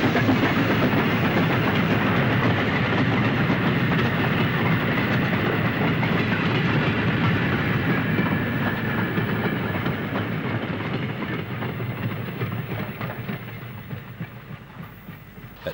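Steam locomotive 76009 hauls a Weymouth to Waterloo parcels train in 1966-67, a loud continuous rumble of wheels and carriages with rhythmic clatter that slowly fades as it moves away.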